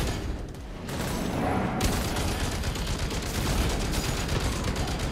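Rapid gunfire from a light machine gun in the video game SYNCED, a dense sustained burst of shots that starts after a brief lull and continues loudly to the end.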